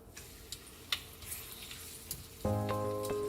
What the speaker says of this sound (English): Hearing that nice little sizzle, you know it's about right on the temperature.